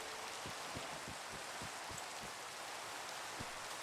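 Steady, dense rain falls in the video game Minecraft, a constant hiss with scattered soft raindrop taps, faint and even throughout.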